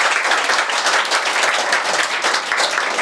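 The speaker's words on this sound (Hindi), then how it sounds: "एक बार जोरदार तालियां बजाइए कोटा की पूरी टीम के लिए।" An audience at a school annual function in Sangod, organized by a coaching institute, gives dense, loud, continuous applause from many hands clapping together.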